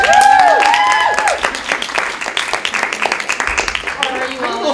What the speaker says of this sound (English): If you guys want to give the encore cheer.